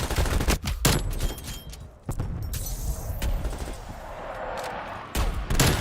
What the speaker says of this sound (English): Man, this SMG is killer.